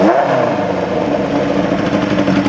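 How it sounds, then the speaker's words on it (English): Honda CB750 street fighter motorcycle engine, already warm, revving steadily close up with a sustained throaty drone that rises briefly at the start and then holds loud throughout. "Just give it a couple revs here for you guys."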